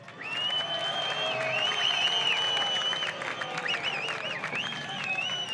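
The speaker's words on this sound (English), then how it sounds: "Give a nice welcome round of applause" A crowd at the podium ceremony of a 2006 Supercars race in Darwin applauds steadily, with cheers and whistles rising above the continuous clapping and no announcer talking over it.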